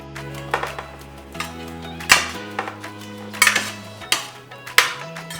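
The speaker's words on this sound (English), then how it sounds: "toss together all of your flavoring ingredients. Add mixed herbs, paprika, salt and pepper, and coat the potatoes well" Potato wedges tossed with mixed herbs, paprika, salt and pepper, giving a series of clattering, scraping bursts at irregular intervals over steady background music.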